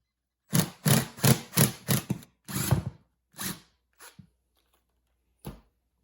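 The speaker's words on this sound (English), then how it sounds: "We're just going to remove the 4 bolts to get the back off. Make it a little easier, adapt it with the drill." A cordless power drill backs out T27 bolts from the seat backing of a Polaris RZR XP, sounding as a close series of short, loud whirring bursts separated by brief pauses, then a few sparser spins.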